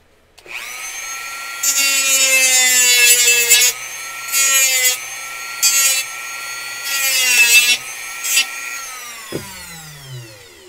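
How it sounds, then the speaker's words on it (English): A rotary tool grinds the plastic of a Nerf Alfa Snooper blaster in several short bursts of high, whining abrasion. The motor spins up, cuts in and out, then winds down to a close, loud stop. "So basically I'm just going to grind a little bit, see what's holding this back from going in further"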